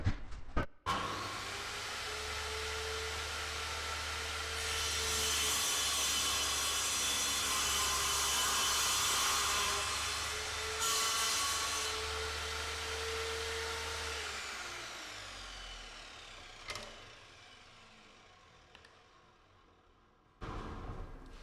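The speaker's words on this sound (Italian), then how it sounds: "per un taglio su una tavola di abete da 28 mm" A Lidl Parkside PMTS 210 A1 bench circular saw spins up with a loud whine, then bites into a 28 mm fir board for a long steady cut before the blade runs down and stops.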